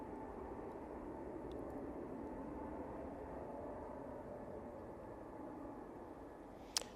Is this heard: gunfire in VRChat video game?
no